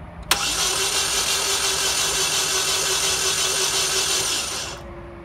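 A Chevy Cobalt with a random misfire is cranked with the key, giving a sudden onset followed by a steady, loud mechanical whir that holds for about four seconds and then cuts off, with no talking.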